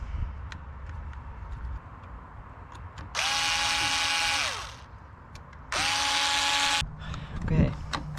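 Two bursts of a power drill whine, each about a second and a half long, as screws are driven into a Toyota Prius door panel during an actuator repair. The drill stands out clearly over a quiet room.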